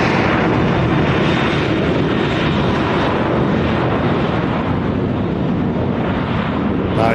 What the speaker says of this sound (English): Ryanair out to Genoa.